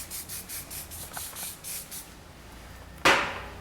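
Several quick spray bursts mist fixing spray onto a freshly shaped, filled-in beard at a barbershop, a regular run of short hissy puffs followed by a louder, sharper spray near the end, with no talking.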